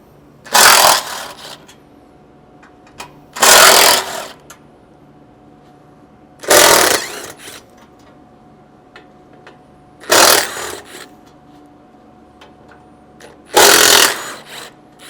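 A power driver with a T40 Torx bit removes bolts while a front bumper is taken off a Ford Bronco, sounding as five loud whirring bursts of about a second each, separated by quiet gaps.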